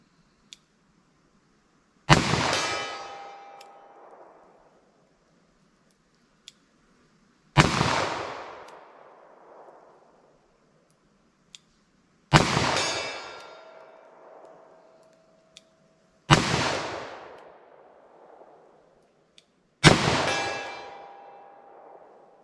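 Five loud, sharp gunshots from a 4-inch .357 Magnum revolver firing light 158-grain LSWCHP loads ring out outdoors, each followed by a long decaying echo, evenly spaced about five seconds apart.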